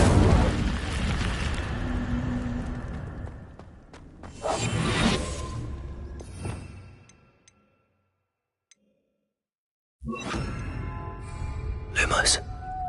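Fiery Incendio spell blasts from Hogwarts Legacy come as several booming whooshes in separate bursts, mixed with voices. A stretch of near silence falls before the last loud flare-up.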